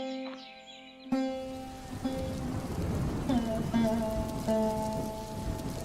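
A rain storm pours down in a steady broadband hiss that runs through the whole stretch, with sustained tonal sounds layered over it and a sharp jump in level about a second in.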